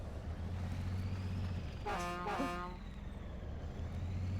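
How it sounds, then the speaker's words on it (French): A truck horn in the off-road driving game MudRunner gives one short, loud double honk over a steady low engine drone. "J'ai l'impression qu'ils ont tous le même klaxon par contre."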